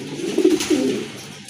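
Pigeons cooing at a pigeon seller's stall, two soft, low throaty coos in quick succession followed by a fading murmur, close by with no talk over them.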